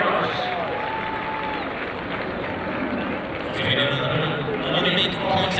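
Crowd at the Cork City Sports athletics meeting applauds and cheers the junior athletes, steady broadband clapping sustained throughout and swelling slightly near the end, with an announcer talking over it.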